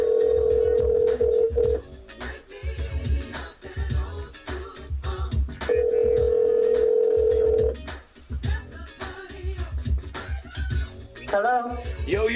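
A telephone rings out in repeated long electronic trills as a call-in show connects to a guest, over a funky music bed with bursts of sound between the rings.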